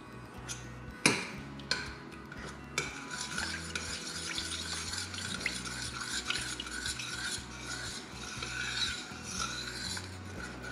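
A thick cheese sauce with mascarpone gets stirred in a pot so it won't catch on the bottom, with rhythmic scraping and rubbing strokes against the base over a faint simmer and no speech.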